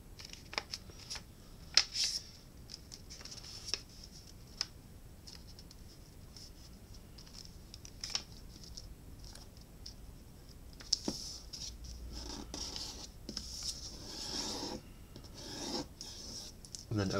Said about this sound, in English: taking your square piece of paper and folding it in half diagonally